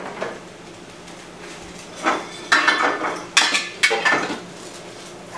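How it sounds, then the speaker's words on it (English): Ceramic poultry plates clink and clatter as they are lifted out and set down in a home kitchen, several sharp close knocks in the second half after a quiet stretch. "I'm gonna get a plate over here,"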